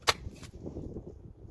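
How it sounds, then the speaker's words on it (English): A single sharp report from a Savage Arms Springfield Model 944 single-shot gun, one loud crack followed by a brief fading tail, with no voices. "This is shooting the Model 944 by Savage Arms."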